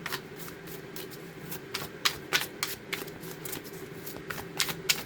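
Tarot cards shuffled briskly by hand, a steady run of crisp riffling snaps and flutters with a few louder bursts, close and fairly quiet, no talking.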